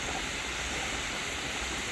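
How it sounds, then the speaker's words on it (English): A pressure canner loaded with jars of butternut squash vents a steady, continuous hiss of steam, loud and unbroken from start to finish. "Anyway, steady stream of steam."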